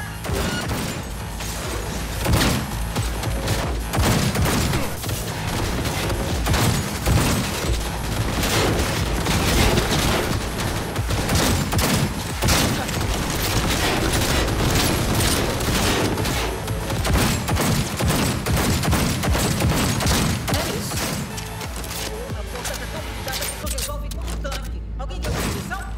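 Automated turret gunfire in the video game Cyberpunk 2077 rattles in dense, sustained bursts for the whole stretch, loud and crowded with booms and crashing impacts.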